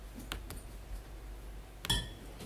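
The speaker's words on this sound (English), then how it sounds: "here you've got this initial whiskey glass sound" A whiskey glass clinks once, a bright close ring with a short decay, after a few faint taps and light rattles of glassware.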